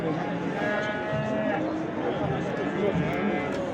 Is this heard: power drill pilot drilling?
no